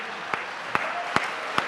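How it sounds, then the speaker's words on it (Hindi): An audience at a Hindi hasya kavi sammelan comedy poetry gathering claps in sharp, evenly spaced beats, four distinct claps in a steady rhythm over a faint crowd murmur. "ताली"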